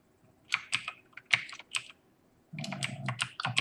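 Computer keyboard keys tapped during a strategy game, a few separate sharp clicks followed by a quicker cluster of keystrokes, close and clear with no talking.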